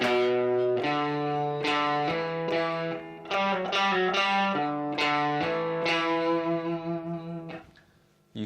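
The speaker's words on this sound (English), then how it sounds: "If you're on an electric guitar like me, a bit of distortion on the amp like I've got, sounds nice" Electric guitar through an amp with distortion plays a riff: thick sustained power chords, then quicker stepping notes, ending in a fading bend and brief silence, with no talking.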